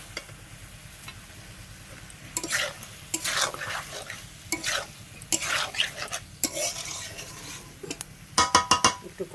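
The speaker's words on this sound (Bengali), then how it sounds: "এঁচড় আর আলুটা দিয়ে বেশ কিছুখানি একটু কষে নেব।" Jackfruit and potato are stir-fried with chicken in a pan, with a low sizzle under repeated, uneven scraping and clinking spatula strokes against the metal, close and fairly loud, growing busier toward the end.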